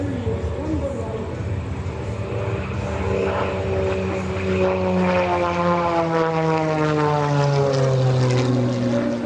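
An aerobatic propeller airplane's engine roars loudly and continuously at an airshow, its pitch sweeping and shifting as the aircraft spins overhead in a torque roll.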